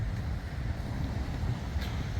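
Steady wind blows outdoors under low clouds after rain, a continuous low buffeting rumble against the microphone.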